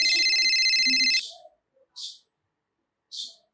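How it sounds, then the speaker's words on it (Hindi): A phone rings with an incoming call, one ringtone burst of about a second followed by two short chirping tones, heard alone in a quiet domestic room. "दूसरा हर दिन आ रहा है, तो पूजा को फोन आ रहा है।"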